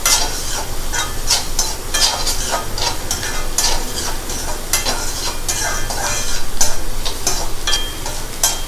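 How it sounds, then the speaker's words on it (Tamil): Chopped onions sautéing over a high flame in a pan for a vegetable pie filling, a steady loud sizzle broken by repeated scraping stirs with a spatula, close up, with no talking. "ஆனியன் சேர்த்து நல்லா சாட்டே பண்ணிக்கோங்க,"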